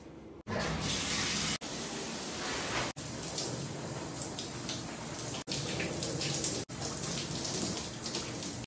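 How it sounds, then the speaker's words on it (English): A shower runs steadily with a dense hiss of spraying water, broken by several short abrupt cuts. "then I'm gonna shower."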